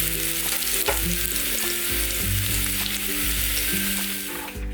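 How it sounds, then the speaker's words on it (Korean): Sliced garlic fries in plenty of oil in a pan over high heat, giving a steady, dense sizzle with occasional crackles and light stirring, heard up close with no voices. "썰어둔 마늘을 넣고 노릇하게 튀기듯 볶아주세요."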